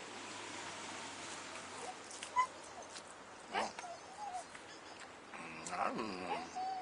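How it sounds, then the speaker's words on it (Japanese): Dog whimpering with a few short yips and barks, fairly faint and intermittent, over a background of room noise and someone talking during a Japanese bento eating show. "犬、おとなしくしとれ。"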